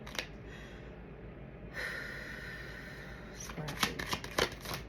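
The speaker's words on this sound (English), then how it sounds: "I'm gonna keep shuffling." Tarot cards being shuffled close up, a soft steady riffle that turns into a burst of sharper snaps and flicks near the end.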